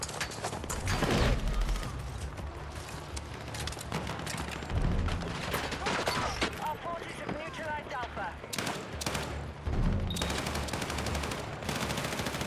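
Rapid bursts of automatic gunfire and single shots in the video game Battlefield 6, sharp cracks scattered throughout amid game noise, with a player talking over the action.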